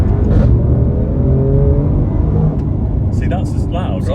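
An Alfa Romeo Giulia Quadrifoglio in dynamic mode gives a loud, rumbling exhaust roar as it accelerates from inside the cabin. The roar is steady and rising, and a voice speaks briefly over it.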